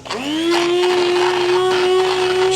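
A stick blender pureeing vegetable soup, whirring up to speed almost immediately and then holding a steady, loud motor whine, close up, with the blade churning through the liquid.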